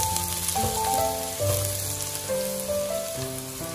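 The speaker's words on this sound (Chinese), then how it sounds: "油热之后把辣椒和蒜末倒下来炒香" Chilli and minced garlic sizzle steadily in hot cooking oil and a little lard in a wok, a constant close crackle under background music.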